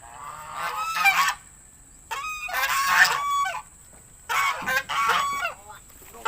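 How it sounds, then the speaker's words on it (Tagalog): Geese honk loudly in three clamorous bursts, separated by short quiet gaps. "Maingay ang aking mga gansa."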